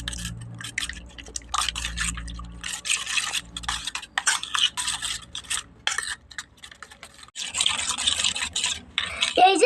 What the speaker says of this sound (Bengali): এখন আমি ডিমের সাথে পেঁয়াজ, মরিচ আর লবণ আর ধনিয়া পাতা এটাকে মিলিয়ে নেব।